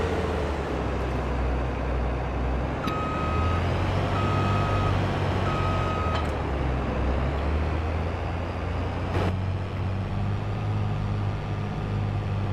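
Farm vehicle in Farming Simulator 22 gameplay: a steady low engine drone runs throughout, with intermittent high reversing beeps partway through, loud and continuous, with no talking.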